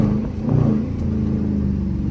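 A Dodge Charger R/T accelerates hard at night, its engine note rising in a loud, steady growl over about two seconds with no talking.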